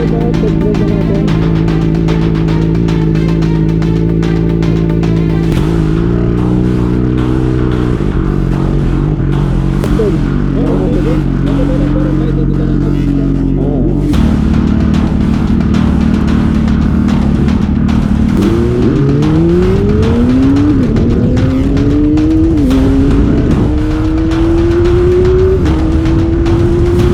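A JX255 vehicle on a test drive along a bypass road in Laoac, Pangasinan, its engine loud and close, revving hard and climbing in pitch through repeated gear changes for nearly half a minute.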